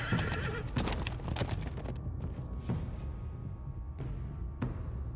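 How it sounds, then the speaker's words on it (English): Video game combat horses whinny and snort while hooves clop rapidly nearby, the galloping fading into a few scattered steps and calls toward the end. "Interesting that they got those fucking combat horses."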